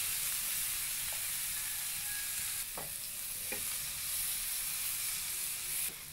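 Chopped onion sizzles steadily in a hot pan for squid adobo, with a broad continuous hiss and a few faint clicks of stirring, and no voices.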